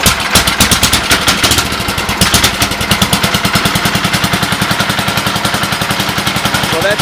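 A Sears ST10 lawn tractor engine fires on a cold start and settles into a steady, loud, rapid-firing run, its exhaust pulses evenly spaced close to the mic with no talk over it.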